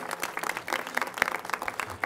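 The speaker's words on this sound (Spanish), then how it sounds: "le brindemos un fuerte aplauso" Brief burst of audience applause at a breast cancer prevention health event, uneven clapping with distinct individual hand claps standing out in the crowd.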